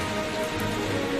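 Steady light rain patters outdoors on a surface at night, a soft even hiss with no voices over it.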